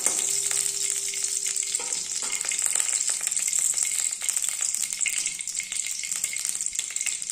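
Ghee going into hot refined sunflower oil in a wok gives a steady, close, loud sizzle and frying crackle throughout, with a faint hum near the start.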